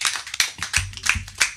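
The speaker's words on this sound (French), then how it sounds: "Est-ce que quelqu'un peut me donner des acclamations?" A church congregation claps in quick, uneven bursts, the sharp hand claps close and loud without any voices.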